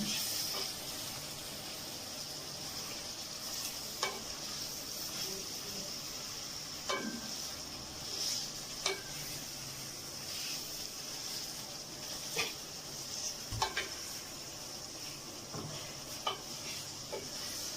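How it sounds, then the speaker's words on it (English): Chicken and chickpea masala cooks in a pan with a steady, fairly soft sizzle, broken by occasional scraping stirs and light clinks of the spoon against the pan. "Now I mix it well and cook for quite some time."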